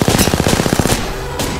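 Automatic gunfire in a shooting video game, a quick loud burst of close, evenly spaced shots lasting under a second, then a short pause and a single heavier report.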